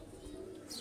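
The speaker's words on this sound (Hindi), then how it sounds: "ये दोस्तों मलिक साहब के मैरो वाले टैडी कबूतर" Teddy pigeons give a soft, brief coo at low volume, with faint background ambience.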